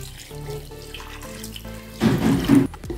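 A cup of water pours from a tap into a bowl of bread idli batter, a steady trickle that swells into a louder gushing splash toward the end.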